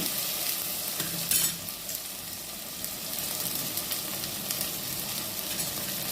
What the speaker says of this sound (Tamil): அந்த பொடியை சேர்த்து கொஞ்சம் நேரம் வதக்குங்க